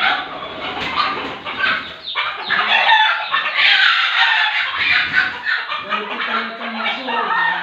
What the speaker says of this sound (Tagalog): Meron ng inahin. Inahin manok.